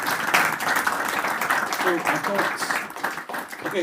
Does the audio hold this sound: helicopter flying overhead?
no